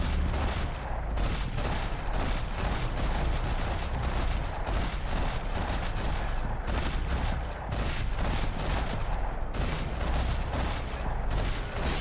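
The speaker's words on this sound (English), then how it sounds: "Another parking lot rattling with gunfire." Rapid bursts of gunfire in Max Payne 3 rattle almost continuously in a parking lot, with mechanical clicks and clatter mixed in, loud and close throughout.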